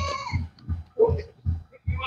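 Goats on a farm bleat in short, repeated calls, several close bleats in quick succession with no talk over them.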